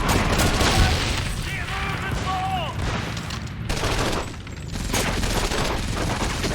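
MG42 machine gun fire in the World War II video game Medal of Honor Vanguard, loud sustained bursts of rapid automatic shots with brief pauses, dense and continuous, with other game sounds mixed in.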